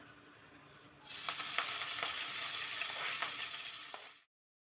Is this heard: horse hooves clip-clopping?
no